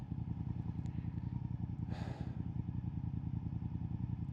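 A Honda VTR 1000 SP2 V-twin idles close by, a loud, steady, deep pulsing thrum with a brief hiss of noise in the middle.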